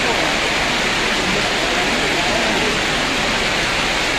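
Torrential rain and hail come down on Kurseong, Darjeeling, a loud, unbroken roar of water holding steady and close throughout, with no voices over it.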